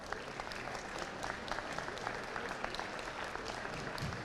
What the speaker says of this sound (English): Coming up, round of applause.